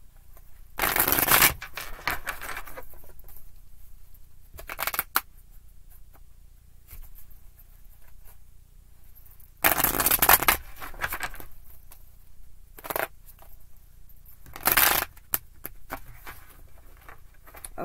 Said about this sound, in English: They're telling me to stop shuffling.